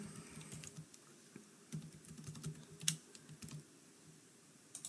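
Soft, quick keystrokes on a computer keyboard tap out a short irregular run, faint and close, with a slightly louder click now and then and no voices.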